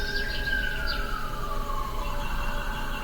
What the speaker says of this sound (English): Is that an ambulance or police?